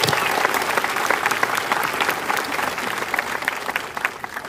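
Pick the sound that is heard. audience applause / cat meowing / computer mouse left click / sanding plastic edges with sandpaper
audience applause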